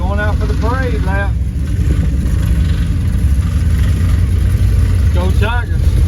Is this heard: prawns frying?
no